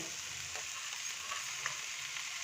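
Fresh garden broccoli fries in butter and garlic in a pan, a faint, even sizzle running throughout with a few soft stirring touches, no voices.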